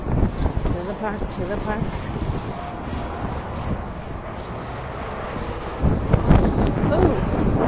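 Wind gusts buffet the microphone on a walking tour near Union Square Park in New York City, a steady low rumble swelling louder toward the end, with people talking over it throughout.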